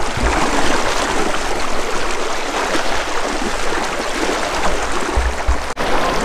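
A strong river current at Minalungao in Nueva Ecija rushes past in a loud, continuous roar of churning water, steady throughout with no talk.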